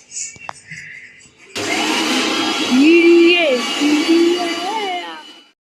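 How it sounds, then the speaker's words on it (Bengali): A Bengali home kitchen's electric mixer grinder starts up and whirs steadily, grinding ginger, onion, garlic and green chilli into a paste, loud and continuous while someone speaks over it. "এখানে মশলা করব আদা পেঁয়াজ রসুন আছে তো এগুলো আমি বেটে নিচ্ছি কাঁচা লঙ্কা"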